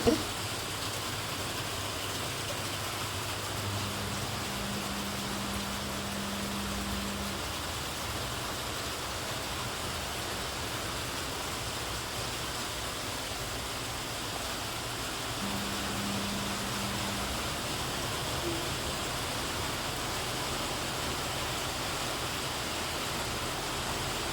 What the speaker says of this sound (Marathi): तुम्हाला दाखवते मी किती पाऊस येतो आहे बाहेर